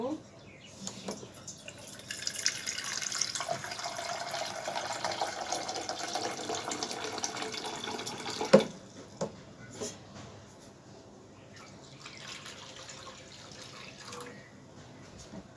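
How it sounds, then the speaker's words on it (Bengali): Water is poured into a cooking pot with carrots and beans for dalia, making a rushing pour of about six seconds that ends in a sharp clunk, followed by quieter drips and handling noises. "জল দেব"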